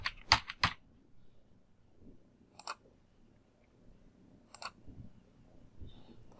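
Escape key pressed on a computer keyboard: a quick run of three crisp clicks, then two isolated single clicks spaced a couple of seconds apart, close and dry in a quiet room.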